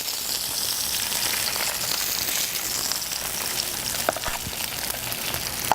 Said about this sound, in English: Then I'm going to actually add the salmon to the same pan.